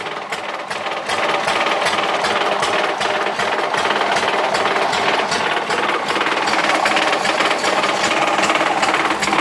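Old antique engine built by a group of inventors, shown at an exhibition and hot-rodded, running with a rapid rattling, knocking chug that stays loud and steady throughout.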